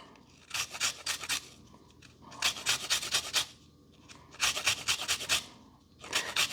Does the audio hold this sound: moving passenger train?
no